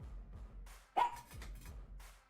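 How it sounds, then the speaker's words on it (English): A single dog gives one sharp bark up close, with low muffled thumps and a soft whimpering sound around it, otherwise quiet. "What are you barking at? Were you dreaming?"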